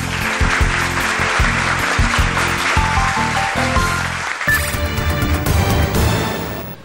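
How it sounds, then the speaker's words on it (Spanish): Studio audience applauding for both teams on a quiz game show, a dense, loud burst of clapping with rhythmic beats underneath, swelling again near the end. "Así que un aplauso para ambos equipos."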